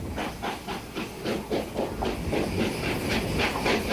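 A steam locomotive on a Nevada heritage railroad chuffs along in a steady rhythmic beat of hissing exhaust puffs, with faint rail clatter beneath, fairly close and with no voices.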